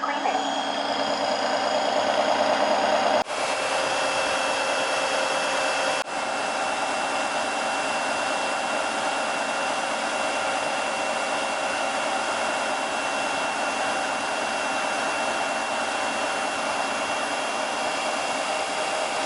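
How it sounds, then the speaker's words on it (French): A floor cleaner runs its brush self-cleaning cycle, a loud steady motor whine and whirr that holds continuously, with brief shifts in tone near the start and a constant drone afterward. "pour nettoyer la brosse, enfin pour qu'elle fasse un auto-nettoyage"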